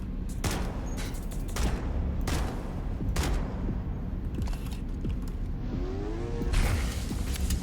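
Weapon fire in the Halo: Campaign Evolved video game, with several sharp bursts of shots spaced across the stretch, loud and close over a steady game background.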